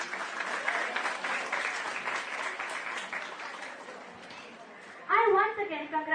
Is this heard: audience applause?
yes